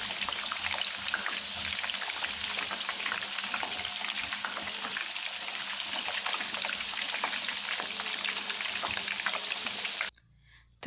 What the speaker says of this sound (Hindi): ऑयल को ज़्यादा गर्म नहीं किया, उसमें मैंने ये चिकन डाल दिया।